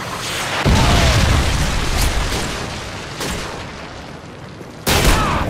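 A Predator missile explodes in Modern Warfare 2: a loud, close boom erupts and rumbles on, a smaller burst follows midway, and another sharp, heavy blast hits near the end.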